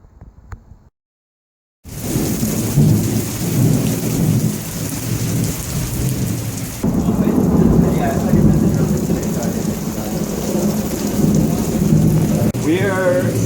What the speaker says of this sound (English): it decided to rain on us